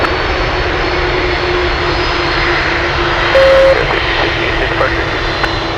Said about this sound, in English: 747 stealing the spotlight